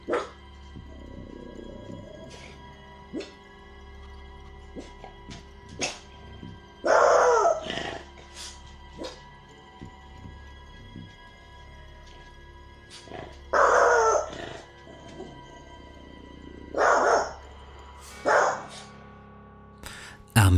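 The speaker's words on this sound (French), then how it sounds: "Cette dernière s'alourdit quand le chien qu'elle garde commence à aboyer, fixant intensément le couloir." A dog barks in several short, loud bursts spaced across a quiet, tense indoor scene, with faint low background tones and occasional clicks between the barks.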